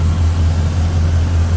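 A smooth-running Chevrolet 350 V8 in a 1977 El Camino Classic idles close by, a steady deep low rumble without speech.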